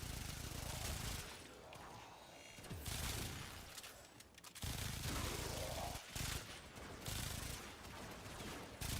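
Warframe weapon fire comes in rapid, loud bursts of automatic shots that empty the magazine quickly, broken by short pauses and reload gaps across the stretch.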